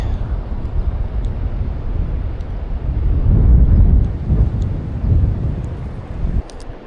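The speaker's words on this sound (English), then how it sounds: "It's windy right here. It's cold and windy." Strong, cold wind buffets the microphone in a continuous low roar, swelling and easing in gusts with no voices present.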